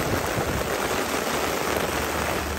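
Heavy rain pours down during Typhoon Noru around a long-arm excavator at a digging site, a dense, constant hiss of drops drumming close by without pause or voices.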